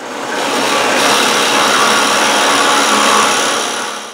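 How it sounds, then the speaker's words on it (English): A drill press bores half-inch holes in wood for bushings, giving a loud, steady high-pitched whine that rises at the start, holds evenly for several seconds and tapers off at the end, with no talk. "I just need to go over the drill press and cut those 1/2 inch holes for those bushings on here"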